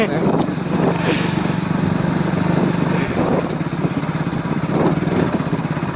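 A tractor engine running continuously at a rural work site where soil is being hauled, with a steady rumbling drone and no pauses.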